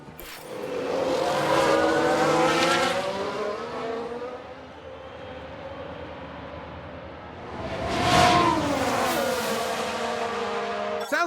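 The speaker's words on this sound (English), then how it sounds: "Sounds like a few cars have crashed." Race cars in the F1 Manager 22 racing game roar past with rising and falling engine whine, tires squealing and skidding, swelling loud twice with a steady drone between.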